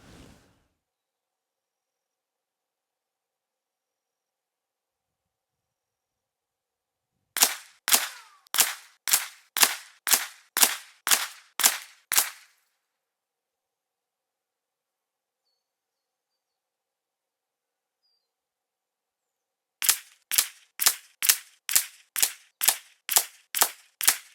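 A Tikka T1x .22 LR rifle fired while zeroing: two strings of about ten sharp, evenly spaced shots each, separated by a long silence, crisp and fairly quiet.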